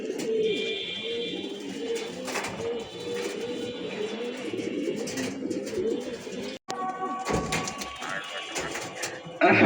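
Pigeons returning to a loft during a racing tournament coo in low, throaty bursts close by, under intermittent talk and background noise.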